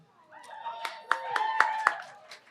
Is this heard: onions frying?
no